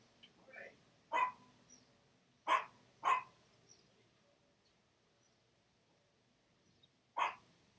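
A small dog barks in short, sharp yaps, a few isolated barks with pauses between them, fairly close and moderately loud against a quiet room.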